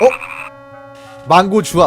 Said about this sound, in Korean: 뭔가 개구리 울음소리 같은 게 들렸는데